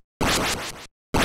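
Contra's spread shot as heard on the noise channel alone: two bursts of harsh hissing static in an 8-bit video game style, the first rough and fluttering before a gap, the second starting at the end.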